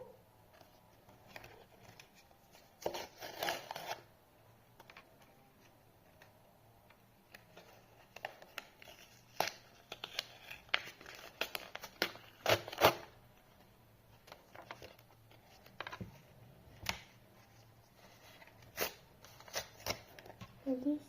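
Crinkly paper rustling and tearing in bursts as a paper surprise packet is opened, close up, with quiet gaps between handling sounds and no voices.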